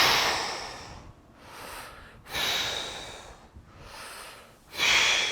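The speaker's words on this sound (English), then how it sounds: "And exaggerate your breathing." Heavy, exaggerated breaths during a dumbbell bench press, four loud forceful exhales with quieter inhales between them, in a slow steady rhythm, close up with no talking.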